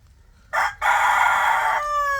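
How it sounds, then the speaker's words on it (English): Rooster crowing once, loud and close, a single drawn-out call with a short break near the start, heard at a pigeon loft with fantail pigeons. "I can never make a video without that fowl crowing in it"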